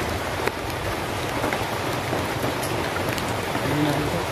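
Steady rain falling outdoors, a dense continuous hiss of drops on surfaces at moderate loudness, with faint voices murmuring underneath.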